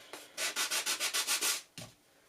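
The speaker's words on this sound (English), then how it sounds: "I'm just going to grab my sanding tool just to knock off any of the rough kind of edges." A handheld sanding tool rubs along the rough edges of a cardstock planner dashboard, making about ten quick rhythmic scratchy strokes close up, followed by one final short rub.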